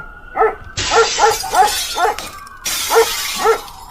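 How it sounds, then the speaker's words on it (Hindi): A dog barks at night in a series of about seven sharp, fairly close barks at an irregular rhythm, with steady hiss and background noise rising behind them. "और इंडिया में जब कोई रात को कुत्ता भौंकता है"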